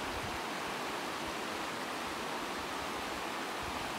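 Water draining down into a sinkhole opening in the ground near a creek, a steady broadband rushing wash, loud and unbroken, with no voices.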